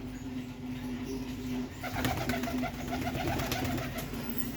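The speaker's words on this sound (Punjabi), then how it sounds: "ਹਰ ਇੱਕ ਤਰ੍ਹਾਂ ਦਾ ਕਬੂਤਰ ਫਿਰਦਾ ਬਾਈ ਆਪਣੇ ਕੋਲ" Pigeons coo softly nearby in low repeated calls, with a faint steady hum and some light rustling in the background.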